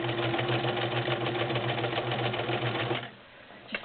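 Morse Apollo 6500 sewing machine running in low gear, a steady rapid mechanical whirring and clatter close up for about three seconds before stopping, followed by a quiet pause and a small click.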